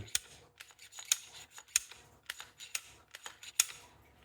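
Quiet metallic clicks and sliding scrapes repeat in quick succession, the freshly oiled slide of a Glock 17 Gen 5 pistol worked back and forth up close with no talking.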